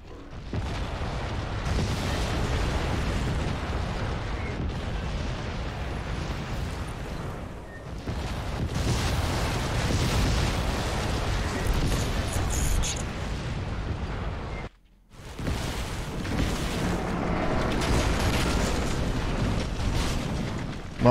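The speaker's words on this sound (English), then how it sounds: "Everything is exploding around me." Explosions go off all around in Crysis 2 Remastered, a long, loud barrage of rumbling blasts and bursts that drops out briefly to near silence before the booming resumes.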